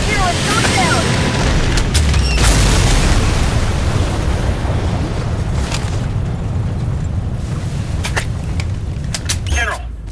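A Sky Crane dropship crashes in the 2009 Section 8 video game, bringing a loud, sustained roaring rumble with heavy low-end boom and whooshing debris bursts under battle chatter throughout.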